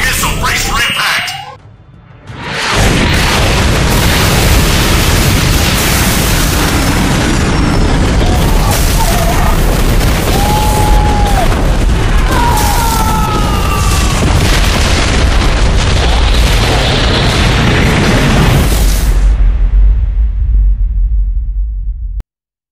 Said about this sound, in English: Incoming missile, brace for impact!